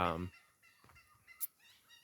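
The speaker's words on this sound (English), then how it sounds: "the birds are going at it over there, singing along" A turkey gobbles loudly nearby outdoors, a rapid burst of throaty calls, followed by fainter bird sounds in the quiet.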